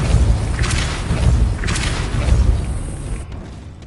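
Depulsor spell cast in Hogwarts Legacy: a loud, full-bodied magical burst with a deep thump and swooshing rush, swelling twice in quick succession, with no voice over it.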